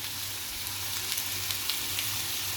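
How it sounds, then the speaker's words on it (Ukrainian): Potato pieces browning in fat in a frying pan as onion is added, a dense even sizzle close by with soft scraping movements, no speech. "моя картопелька підрум'янилася, тепер я додам цибульку"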